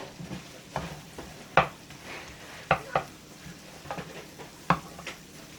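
Shrimp sautéing in a pan, heard as a soft sizzle under several sharp scraping and clinking stirring strokes that come at irregular intervals.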